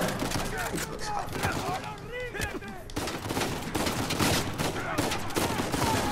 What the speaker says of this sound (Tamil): சாம் சுடுங்க சுடுங்க சுடுங்க